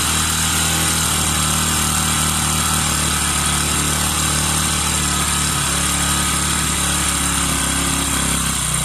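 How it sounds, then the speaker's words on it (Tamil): Bajaj Pulser motorcycle engine idling close by after an air-fuel ratio screw adjustment, a steady buzzing putter that holds evenly as the revs settle lower. "மெதுவா ஐடில் ஆர்பிஎம் குறையும் கொஞ்சம் கொஞ்சமாக குறைஞ்சி குறைஞ்சி வரும்"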